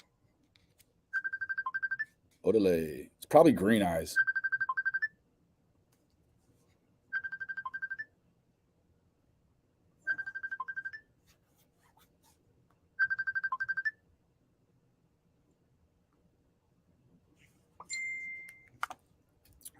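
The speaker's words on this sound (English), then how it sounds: "my phone just went off" A mobile phone ringtone sounds in short repeated electronic bursts, with several evenly spaced rings over about fifteen seconds and brief speech near the start.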